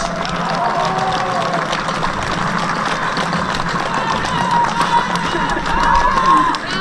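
A large crowd at a street protest cheers and applauds, a dense, steady roar of clapping and shouts that swells slightly toward the end.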